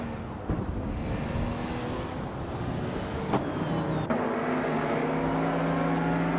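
Race cars roar off the line at the start of a race on the Dijon-Prenois short track in a racing game, a 1996 Porsche 911 GT2 among them, with engines revving together, a couple of sharp gear-change clicks, steady and loud.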